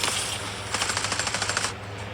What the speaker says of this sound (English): Oh, it's a sniper.